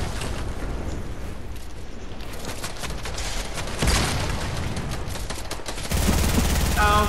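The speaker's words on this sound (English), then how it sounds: "someone else is shooting at me" Sustained rapid gunfire from another player in an online shooter game rattles continuously, with a louder burst midway and heavier booming fire near the end.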